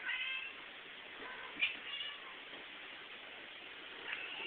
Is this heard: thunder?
no